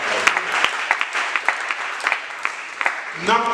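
A church congregation claps together, a run of sharp, quick claps close by at an even pace, ending as voices rise.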